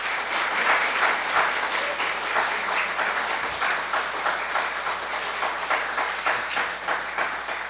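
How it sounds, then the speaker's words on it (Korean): Church congregation at a Sunday service applauding to welcome the lay preacher, a dense, steady round of clapping from many hands that carries on throughout. "장로님 나오실 때에 말씀 잘 전해주세요 부탁하는 의미로 박수로 맞이하겠습니다"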